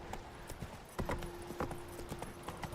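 Roach, a horse in The Witcher 3 video game, clip-clops at a steady trot. Hoofbeats land in an even rhythm and sound near and moderately loud over a faint sustained tone, with no talk.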